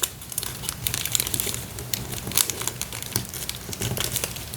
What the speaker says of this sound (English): we're just going to fold this corner in